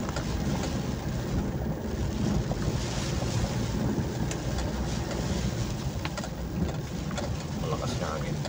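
Strong wind roars and buffets the microphone without a break during a storm, loud and steady, with faint voices underneath.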